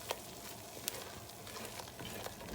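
A butter and flour roux cooks in a pan, giving a quiet, even sizzle broken by a few faint scrapes and clicks as it is stirred.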